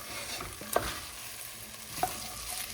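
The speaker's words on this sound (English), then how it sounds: "So there's our bacon and sausage, and this is the onions, potatoes, and the carrots." Bacon, sausage, onions, potatoes and carrots cooking together in a pot, a steady soft sizzle with two brief sharp clinks of a utensil against the pot, close by.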